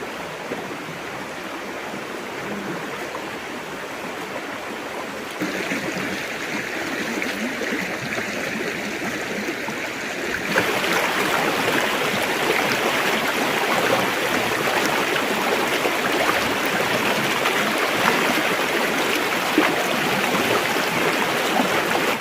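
Stream water flows and rushes steadily at a forest campsite, a continuous broadband wash that grows louder partway through as the bather moves closer to the water, with no talk over it.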